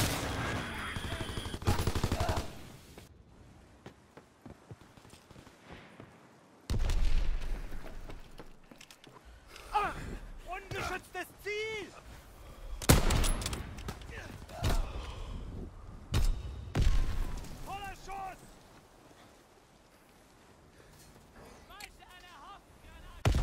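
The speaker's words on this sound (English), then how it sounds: "Enemy bomb incoming! Get to cover!" Call of Duty WW2 battle sounds of gunfire bursts and heavy bomb explosions, booming blasts and sharp shots scattered over the stretch, with a game voice calling out warnings in between.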